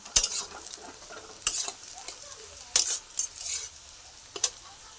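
Onions with bay leaf and whole spices fry in oil in a pan as chicken kasa is prepared, a soft steady sizzle broken by several sharp scraping stirs of a spoon against the metal pan.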